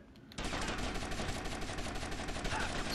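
Rapid sustained automatic gunfire in GTA Vice City, starting abruptly and continuing as a loud, dense rattling burst of shots for several seconds.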